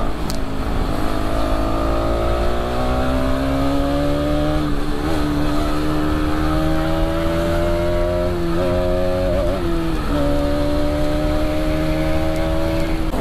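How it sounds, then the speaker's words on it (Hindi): Toyota Innova driving on a road trip toward a temple, its engine hum rising and falling in pitch through gear changes, steady and close, heard from inside the car with traffic around. "अभी अपनी इनोवा की साउंड आपको सुनाई देती रहेगी"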